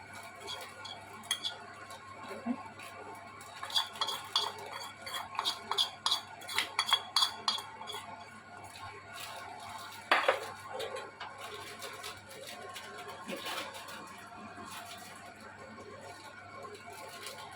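Spice mix being stirred in a cooking pan makes a run of light metallic clinks and scrapes, with a quick cluster in the middle and sparser taps later, over a faint low background hum.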